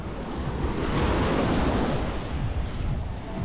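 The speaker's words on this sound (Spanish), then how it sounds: "Y ahora voy a buscar el momento que las olas bajen" Rough ocean surf during Hurricane Beryl at Playa Fundadores in Playa del Carmen, a steady loud wash of breaking waves mixed with wind rumble on the microphone, with no voices.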